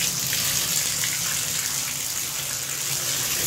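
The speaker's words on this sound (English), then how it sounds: "I am going to turn it on so you guys can see all the fabulous features of the shower head." A hotel room shower head at a Disney Pop Century Resort runs steadily, giving a continuous broadband hiss of spraying water that stays even and fairly loud throughout with no talking.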